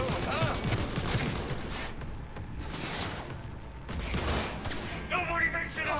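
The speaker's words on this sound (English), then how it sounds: "Guns blazing." Gunfire erupts in a Cyberpunk 2077 firefight, with repeated bursts and shots crackling over several seconds amid chaotic game noise.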